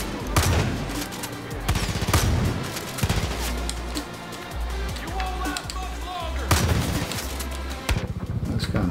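The player's gun in Far Cry New Dawn fires in loud, rapid bursts, punctuated by heavier thumps, while someone talks over the shooting.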